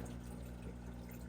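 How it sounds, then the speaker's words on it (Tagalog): Water flows into an overhead sump filter on an aquarium, a steady close rushing trickle over the low constant drone of a pump. "Ayan na ang tubig."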